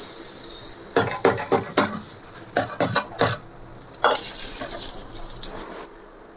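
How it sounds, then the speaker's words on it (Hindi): Tadka tempering for kadhi is stirred in a pan: a run of sharp spoon clinks and scrapes against the metal comes first, then a louder burst of hot sizzling with further stirring, close up and without talk. "अब इसमें हम तड़का लगा देंगे"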